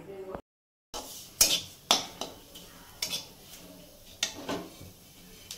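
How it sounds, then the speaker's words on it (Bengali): Cardamom pods and sweet fennel seeds dry-roasting in a pan, with a utensil scraping and clinking against the metal in several sharp, irregular knocks over a quiet background; no one speaks. "দেখো মৌরিটা আমার ভাজা হয়ে গেছে, আর এলাচটা ভাজা হয়ে"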